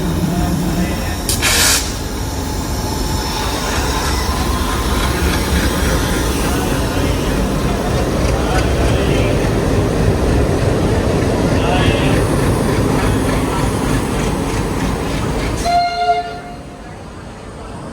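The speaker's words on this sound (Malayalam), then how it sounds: "എന്തോ ഒരു ഗുഡ്സ് ട്രെയിൻ വരുന്നുണ്ട്" A goods train rumbles steadily past close by, wheels clattering for a long stretch, with a brief horn blast early on before the noise cuts off.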